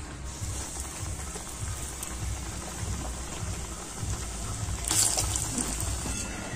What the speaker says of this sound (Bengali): আবার আমি বাকি পটাটোগুলো ভেজে নেবো